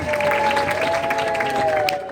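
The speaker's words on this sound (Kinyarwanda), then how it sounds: "buri wese akoma amashyi ahwanye n'umunezero afite uyu munsi" Guests at a Rwandan wedding clap in a steady, dense wash of applause, with a sustained tonal voice or music running underneath throughout.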